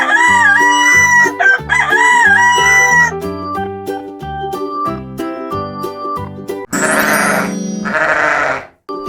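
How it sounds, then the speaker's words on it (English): A rooster crows loudly and close, two long rising calls. Bleating sheep-like cries and clucking follow in a dense, continuous barnyard mix. "I am Rooster."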